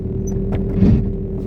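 A 1991 Fiat Tempra SX car idles low and steady at close range while being parked, with a soft rumble and slight swells in the engine note.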